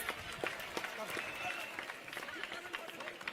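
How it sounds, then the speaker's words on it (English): Students at a matriculation higher secondary school clap together in a faint, scattered burst of applause with overlapping voices. "Let's give him a big round of applause"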